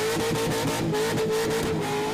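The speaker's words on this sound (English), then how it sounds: "there could be some LS limiter action going on out the front of old mate's porch here" A car engine, probably an LS V8, bounces off its rev limiter outside a house at night. Loud, rapid stuttering bursts pulse on top of a high, sustained engine howl.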